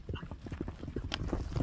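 Hoofbeats from a Danchak-breed horse racing in a Leilek ulak game ring out in quick irregular clip-clop, close and moderately loud, with no speech.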